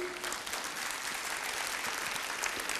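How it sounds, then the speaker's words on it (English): Steady, close applause from a seminar audience for the management, a continuous dense patter of clapping that runs evenly from start to finish. "round of applause to the management"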